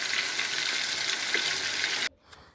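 Loud, steady sizzling of chicken frying in hot oil in a small pan, crackling close up for two seconds before cutting off into near quiet.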